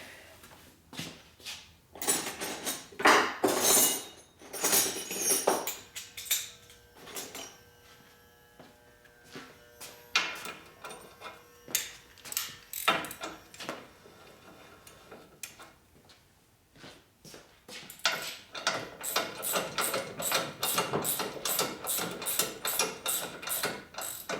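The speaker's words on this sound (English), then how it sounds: "Bolts are tightening a little bit." Close-up wrench clicking while bolts are tightened on the transmission of a 2004 Harley-Davidson FLHT Twin Cam touring motorcycle: bursts of rapid metallic ratchet ticks come in irregular runs, with short pauses and light handling clatter between them.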